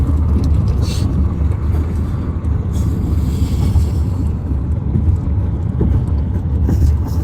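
A shuttle bus drives toward LaGuardia Airport in New York, heard from inside as a loud, steady low engine and road rumble with wind noise throughout and no clear speech.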